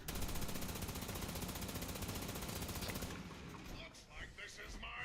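Rapid laser cannon fire from Fallout 76, a fast even burst of repeated shots for about three seconds, followed by scattered quieter impacts and game effects.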